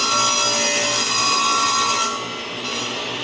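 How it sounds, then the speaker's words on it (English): A saw cutting the angled end off a wooden board on a crosscut guide in a woodshop, loud and close, one continuous cut that eases off near the end. "So we obviously want to chop this angled end off, so we'll do that."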